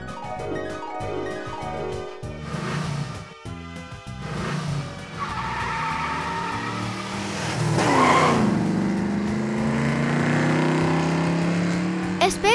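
A cartoon car revs and speeds off with squealing, skidding tires, the screech rising loud and close over background music before the engine drone fades away.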